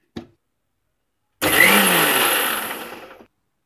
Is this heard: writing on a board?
no